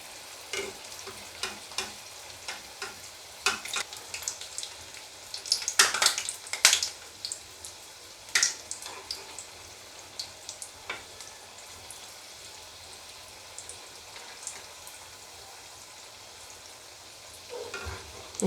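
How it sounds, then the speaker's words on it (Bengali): Gulab jamun balls fry slowly in oil, with a soft low sizzle and scattered crackles and pops, busiest in the middle, then quieter with occasional spatters. "এরকম বন্ধুরা কত সুন্দরভাবে আমার ভাজা হচ্ছে।"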